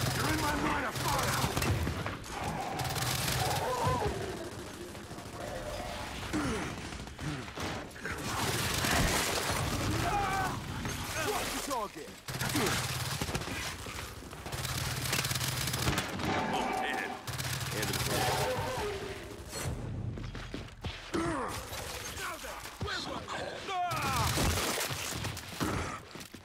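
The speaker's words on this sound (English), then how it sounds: "this Talon auto pistol is nuts" Rapid bursts of Talon auto pistol fire in Gears 5 repeat in loud clusters amid explosions and crashes, with players talking over the combat throughout.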